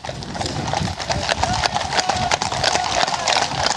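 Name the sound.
cavalry horses' hooves clip-clopping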